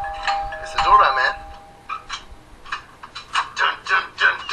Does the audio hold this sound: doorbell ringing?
yes